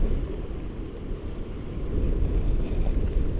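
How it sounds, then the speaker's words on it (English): Strong wind at a lake, a heavy low rumbling gust buffeting the microphone that builds slightly toward the end, continuous and loud, with no speech. "Wow, look at that wind now. That's serious altogether."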